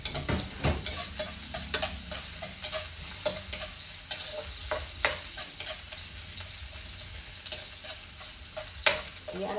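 Sliced onion and ginger sizzling in a hot wok, a steady close frying crackle broken by regular scraping clicks of a spatula stirring against the pan.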